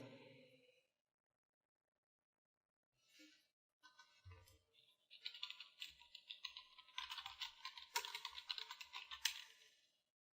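Quick bursts of typing clatter on a computer keyboard, light key taps in irregular runs after a brief silence, close and fairly quiet, with no one speaking.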